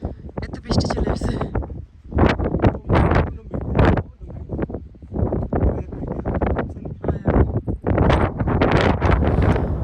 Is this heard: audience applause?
no